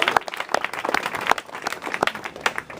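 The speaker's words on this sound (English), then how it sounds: "So please give yourselves a round of applause." A small audience of climate activists claps for itself, with sharp individual hand claps standing out over a quick, uneven patter, moderately close and without any talk.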